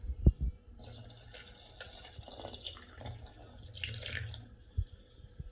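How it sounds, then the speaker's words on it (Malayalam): Warm water pours from a container into a Kent Atta bread maker for a few seconds, a light splashing trickle bracketed by soft knocks, quiet and with no talking. "അപ്പോൾ നമ്മൾ ഈ ചൂടുവെള്ളത്തിലേക്ക് ഒഴിച്ചു കൊടുക്കാൻ പോവാണ്"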